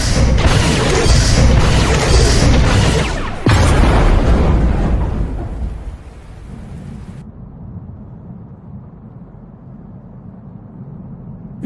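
A loud, rumbling explosion in the Star Wars: The Old Republic video game, a heavy blast followed by a second crash that slowly fades into low debris noise and a dull ambient hum.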